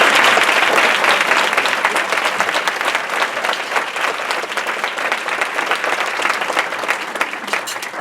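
A room of event attendees gives a round of applause for staff members, a dense, close burst of clapping that gradually thins and softens over eight seconds with a faint murmur of voices underneath.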